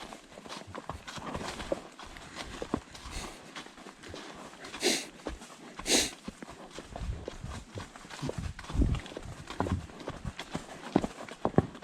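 Hooves of a ridden stallion clip-clop in an uneven walking rhythm, close and moderately loud, with occasional louder thuds and breathy bursts over a quiet outdoor background.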